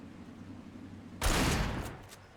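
Gunfire in the video game Alan Wake goes off as one sudden loud burst after a quiet stretch, then fades out over about a second.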